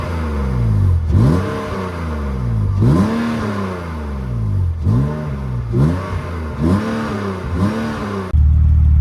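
A BMW E30 engine with a newly made exhaust is blipped repeatedly, five or six sharp revs rising and falling back toward idle, loud and close with no talking.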